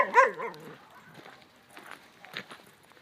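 A single sharp dog bark rings out close at the start, followed by quiet rustling and faint movement sounds.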